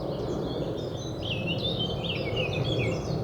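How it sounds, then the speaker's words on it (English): Birds sing continuously in the background outdoors, with a moderate stream of warbling chirps and trills over a soft steady ambient hiss. "just as you do with the bird song"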